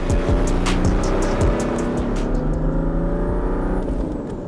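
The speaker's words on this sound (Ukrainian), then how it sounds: "чути, що підбуксовує. Це вона зараз підбуксовувала прям Толік, так?" A Mercedes-Benz C124's engine roars steadily under acceleration, with brief high squeals and chirps as the wheels slip on the surface.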